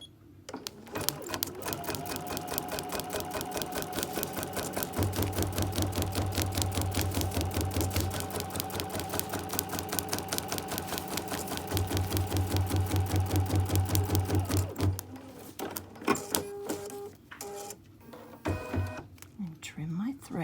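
An embroidery machine stitches a basting box onto a fleece neck warmer, whirring in a fast, steady rapid-fire rhythm of needle strokes close by, then stopping with a few clicks and soft handling noises near the end.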